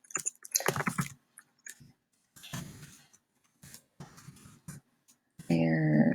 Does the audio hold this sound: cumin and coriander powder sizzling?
no